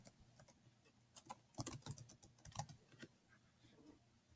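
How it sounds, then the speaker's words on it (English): Keys on a computer keyboard tapped in a short quick burst, close but quiet, with a few isolated keystrokes before and after the main run. "I'm going to hit my plus sign and I'm going to type"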